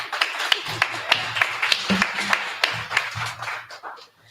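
An audience claps at a speech event, producing a steady run of crisp hand claps at moderate volume for several seconds.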